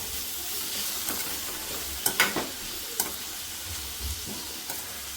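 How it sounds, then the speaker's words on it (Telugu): Vegetables and sorghum flour for jonna vada are stirred in a pan, a soft continuous sizzle broken by a few sharper spoon scrapes and knocks against the metal. "దీన్ని ఇప్పుడు మనం బాగా కలుపుకుందాం"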